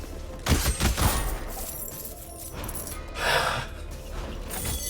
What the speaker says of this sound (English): Right, explosions!